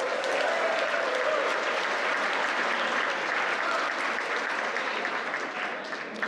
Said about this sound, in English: I hope you can end up continuing that applause